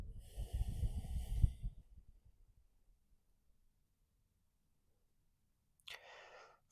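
A steady breath drawn and released during a beginner yoga routine, close and fairly loud for under two seconds, then near silence before a short airy breath sound returns at the end.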